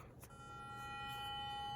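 A Soccas X5 sonic toothbrush switches on and hums steadily with a sustained electric buzz after a brief click, moderately loud and close, with no talking over it.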